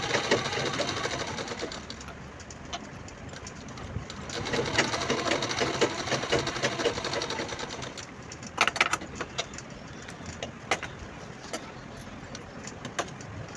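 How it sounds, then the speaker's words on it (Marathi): Sewing machine quilting velvet fabric for a lace-trimmed bag, a steady continuous mechanical whir running close and alone throughout, with a few louder ticks and clatters near the end. "तर आपण आता हिला क्विल्टिंग करून घेऊया."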